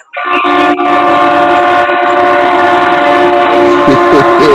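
A train rolls loudly past on the tracks near Fair Park, with a sustained blaring horn covering the whole stretch, close and dominant over steady rail rumble.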